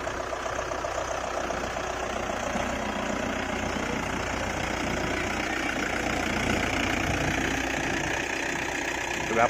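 A tractor engine runs steadily in a field with a continuous rumbling drone, close and even for the whole stretch.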